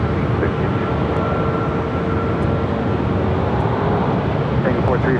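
A distant airliner roars on takeoff from runway 24 left at LAX, a steady broad wash of engine noise with faint clicks over it and no distinct peaks.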